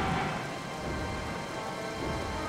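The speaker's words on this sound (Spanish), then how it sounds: "Ya se empezó a llover todo épicamente." Rain falling in The Legend of Zelda: Twilight Princess video game, a steady, dense hiss of downpour with a low rumbling undertone, moderately quiet and continuous without voices.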